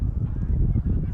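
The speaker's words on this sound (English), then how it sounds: "See so many birds flying in this area." Geese honk nearby over Bethnal Green in London, a short burst of repeated loud nasal honks over a dense low rumble.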